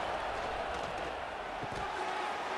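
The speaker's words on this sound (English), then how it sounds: "Listen to the crowd energy here in the early going." A steady, distant crowd roar fills the stands at a high school football game between Boulder Creek Jaguars and Bergen Catholic Crusaders, faint and continuous with no distinct bursts.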